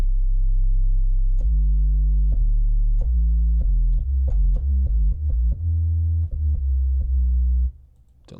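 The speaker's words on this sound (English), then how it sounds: "I can add distortion to it" A low, buzzy synthesizer plays a series of short notes, some quick and some held, with a gritty, distorted edge.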